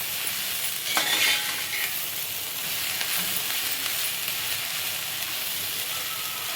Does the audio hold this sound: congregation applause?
no